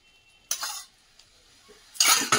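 A metal spoon scrapes and clinks against a bowl while cooked rice is mixed with soy sauce and vinegar, in two short, crisp bursts separated by near silence.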